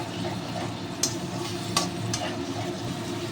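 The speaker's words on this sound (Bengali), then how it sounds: "মশলাটা এবার আমি খুব সুন্দর করে কষে নেব" Spice paste frying in oil in a pan while being stirred, for a vegetarian potato, pointed gourd and paneer curry; a steady close sizzle with a few sharp scraping clinks of the spoon against the pan.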